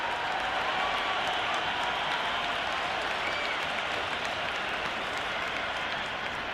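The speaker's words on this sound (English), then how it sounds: "It's evident and ever so audible that the crowd is at near bursting point at today's play" Dense, steady roar of a cricket stadium crowd cheering and applauding in the video game Cricket 26, a loud unbroken wash of noise with commentary voices faintly underneath.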